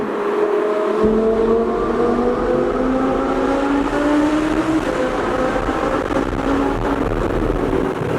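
A car engine revs steadily and loudly in a tunnel beneath Seattle, its rising drone echoing in the enclosed space, with a deep rumble throughout.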